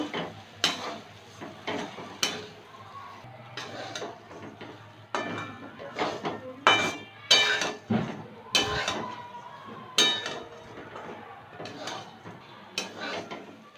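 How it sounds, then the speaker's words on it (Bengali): Dry oats are toasted in a pan and stirred with a utensil, producing about a dozen close scraping and clinking strokes in an irregular rhythm over a faint background sizzle. "এক কাপ ওটস দিয়ে দিলাম এবার একটু ভেজে নেব"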